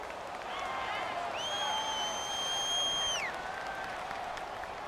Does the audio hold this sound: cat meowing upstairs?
no